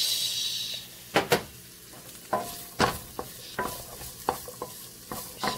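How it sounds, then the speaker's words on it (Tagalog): Onions sautéed in a hot pan while cooking a Filipino catfish dish, with a steady close sizzle and repeated sharp scrapes and knocks of a spatula stirring, no talk. "So ang next na to i-gisa ay ang sibuyas."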